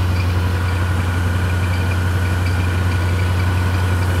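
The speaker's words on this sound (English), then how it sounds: "Got a loose belt, it sounds like." A car engine idles with a loose accessory belt, a steady low rumble with a faint continuous whine above it, close and unchanging, no voices.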